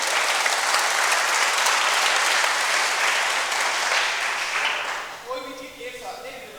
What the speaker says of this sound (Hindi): तो जोरदार तालियां बजाइए अभी योग क्लास नियमित चलने के लिए।